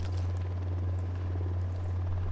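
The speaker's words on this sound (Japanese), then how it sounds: "ユニラットのヘリが巡回してる。" An enemy helicopter on patrol in Ghost Recon Wildlands drones steadily in the background, a low, unbroken rotor hum holding at an even level the whole time.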